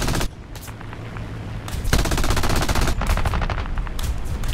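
Machine guns on an I-15 fighter plane in the War Thunder flight game fire in loud, sustained rapid bursts, with brief pauses between volleys.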